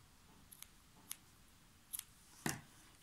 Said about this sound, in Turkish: Şöyle birkaç kere çekeyim, sonra keseyim onu.